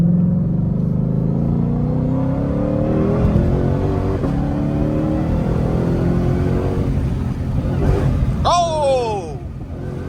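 A Ford GT500 engine revs and rises in pitch as the car drives, a throaty rumble swelling and falling under cabin road noise, with a brief sharp squeal near the end.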